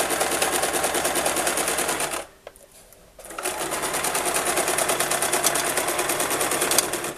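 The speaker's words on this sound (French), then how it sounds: "Et je couds tout le long." A sewing machine stitches a skirt seam, a rapid, steady mechanical whirring close to the mic. It pauses briefly for about a second, then runs again at the same even pace.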